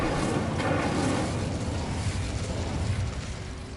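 A fiery Incendio spell cast in a Harry Potter wizarding video game, heard as a dense, roaring whoosh of flame that rumbles steadily and loudly throughout, with no voices.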